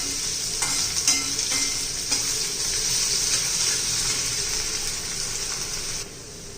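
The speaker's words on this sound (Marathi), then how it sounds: "आता बटाटा घालून घ्यायचा आहे. चांगला बटाटा परतून घ्यायचा आहे, म्हणजे तो पटकन शिजतो." Thinly sliced potatoes sauté in a pan with a loud, continuous sizzle, broken by light clicks and scrapes as they are stirred, heard close and without any talking.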